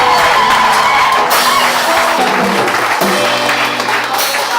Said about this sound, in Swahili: Makofi kwa kijana.